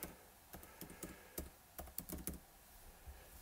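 Fingers tap out a new name on an iPad's on-screen keyboard, about a dozen quiet, irregular close taps spread across a few seconds with no talking.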